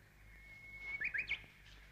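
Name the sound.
bird chirping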